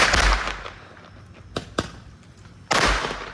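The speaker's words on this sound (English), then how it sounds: "My dad is doing the fireworks." Backyard fireworks set off by a family burst with a loud blast at the start, followed by two sharp cracks in the middle and another strong explosion near the end, each trailing into fizzing decay.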